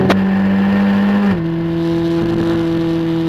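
Skip Barber race cars speed downhill at Lime Rock, a loud sustained engine drone whose pitch drops sharply partway through as they pass, with no talk over it.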